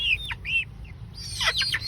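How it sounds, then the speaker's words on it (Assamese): Close local chickens, a few sharp chirps and squawky cackles in quick succession, with quiet gaps between them. "এইখিনি মুৰ্গী চাওক"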